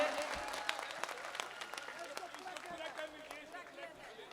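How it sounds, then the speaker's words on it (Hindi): Applause from the audience at an All India Mushaira poetry gathering in Motihari, welcoming a poet to the mic; steady, dense clapping from a large crowd heard at a moderate distance, with a voice faintly over it. "जोरदार तालियों से इस्तकबाल कीजिए"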